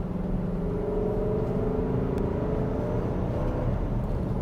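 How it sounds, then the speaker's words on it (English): Cabin of a 2024 Nissan Armada SL driving over bumps at about quarter throttle: a steady low engine and road rumble with a faint whirring tone, even and continuous throughout. "Over the bumps, about quarter throttle."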